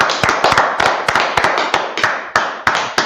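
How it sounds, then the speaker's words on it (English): A small group claps for a class at a gathering of the Israelite School of Universal Practical Knowledge: close, sharp claps in a loose, rhythmic pattern of bursts, with no talking. "All right, let's clap it up for the class."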